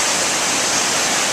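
Rushing floodwater of the steep Brandywine river after Hurricane Sandy, a dense, steady broadband roar of churning water, loud and continuous with no voices over it.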